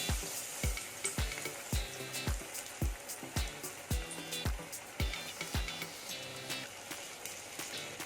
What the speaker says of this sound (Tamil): எண்ணெய் சூடாயிட்டுருக்கு ஒன்று ஒன்றா போட்டுருவோம்